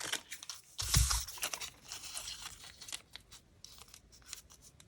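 Scissors snip through a paper shopping receipt, cutting out a small flower shape; one loud, crisp cut near the start gives way to quieter, scattered snips and paper rustles, close up with no talking.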